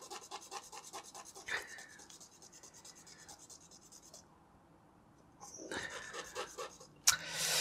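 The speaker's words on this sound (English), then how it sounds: "Get some more of the alcohol and try rubbing it here." Cloth rubbing with rubbing alcohol to wipe shoe polish paste off a surface, a soft repeated scrubbing rasp in quick strokes, close and fairly quiet, with a louder burst of rubbing near the end.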